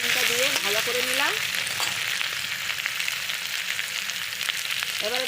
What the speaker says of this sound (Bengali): বেগুন আলু দিয়ে একটু ভাজা ভাজা করে নিয়েছি